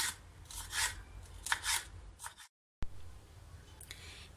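Quick rhythmic knife chopping of peppers on a board, several bursts of cuts with a short pause, fairly quiet and close.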